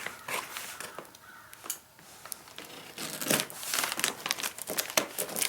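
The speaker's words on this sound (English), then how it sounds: "I'm just going to slowly start cutting this plastic off on one end here." Plastic packaging wrap on a boxed ARB roof top tent being sliced open with a fresh utility blade, producing repeated crinkling and crackling bursts that grow denser and louder toward the end, close up with no talking.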